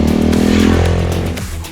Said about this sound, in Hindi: Now I've started liking this exhaust notes.